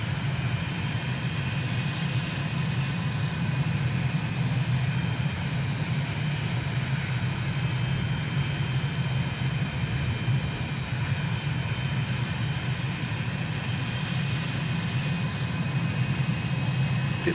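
An aircraft engine drones steadily on the landing approach in a flight simulator game. The loud propeller-like hum stays constant throughout, with no speech.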